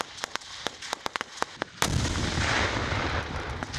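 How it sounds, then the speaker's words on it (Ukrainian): An assault drill simulating artillery shelling: sharp, scattered gunshots crack at irregular intervals, then a powerful mine explosion booms and leaves a loud, rumbling, crackling wash of noise. "Імітація штурму ворожих укріплень зі стріляниною та потужними вибухами мін, що копіюють артобстріл."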